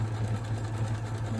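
A sewing machine quilts fabric reusable paper towels, running with a steady, continuous mechanical hum and rapid needle rhythm throughout, close and alone.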